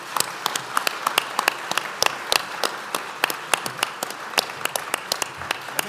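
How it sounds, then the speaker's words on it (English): An audience at a student symposium on democracy applauds a panel, with sharp individual claps standing out over a steady bed of clapping, fairly close and lively throughout. "would appreciate your applause before you adjourn"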